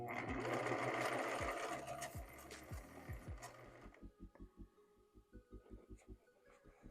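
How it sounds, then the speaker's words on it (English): Sewing machine running to gather fabric, a close rapid whirring that starts loud and steady, then slows into distinct slow thumping stitches, with no talking. "So that's what we're going to go do at the machine now."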